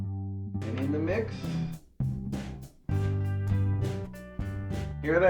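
Electric bass guitar run through an effects unit placed before the amp, blended into a song mix; sustained low notes with bright distorted harmonics play in phrases with short breaks, fairly loud and close, no talking.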